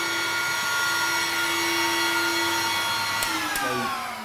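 A chop saw spins as it cuts through wood while a dust extractor runs alongside, a steady loud whine and roar that stays even before the blade note falls away near the end.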